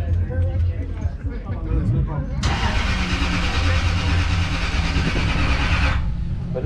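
A car engine cranks and catches around the halfway point, then runs loud and steady with throttle held open for several seconds before easing off, with people talking nearby throughout.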